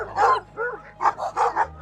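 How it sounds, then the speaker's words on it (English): A senior rescue dog barks several times close by, a quick series of sharp barks with a brief whiny yip in between. "Now he barks all day and doesn't shut up."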